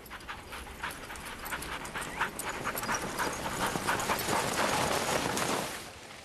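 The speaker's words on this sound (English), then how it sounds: "The dogs know to follow trails already made by snowmobiles." Sled dog team running along compacted snowmobile trails through snow in Sweden, a steady rapid patter of paws with panting breaths, building slightly louder toward the end and continuing for several seconds without talk.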